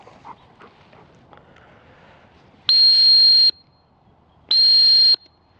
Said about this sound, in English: All right, double tap on the whistle.